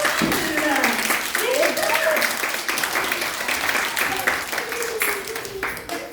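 An audience at a school Christmas show applauds Santa's elf musicians with loud, dense clapping that continues throughout, while children's voices rise and call out over it.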